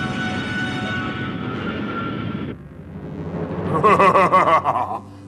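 An airplane flies in the cartoon Jumborg Ace, a steady broad engine roar that cuts off partway, then returns with a louder, wavering whine and quieter rumble.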